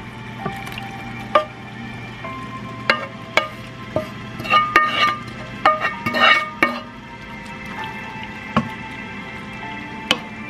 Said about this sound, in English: Okay, so I'm mixing this in.